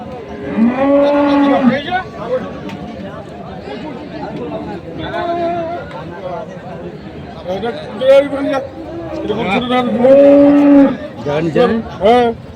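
Cattle moo loudly and repeatedly at a livestock market in Chattogram, long bellowing calls rising over a busy crowd of people talking nearby.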